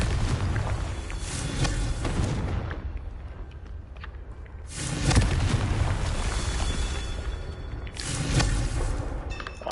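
Confringo fire spell explosions in the video game Hogwarts Legacy, heavy booming blasts that swell and roll in waves over a dense game soundscape, loud and close, with no speech.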